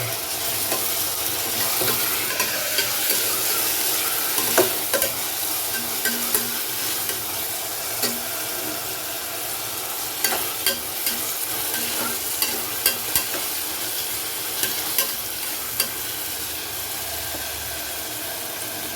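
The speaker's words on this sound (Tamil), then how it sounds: "வெங்காயம் வந்துச்சு தக்காளி சும்மா லேசாக லேசாக வெந்தால் போதும்" Onions and tomatoes frying in a pan for mutton curry are stirred, giving a steady sizzle broken by scattered scraping clicks of the spoon against the pan, close and fairly loud, with no talk.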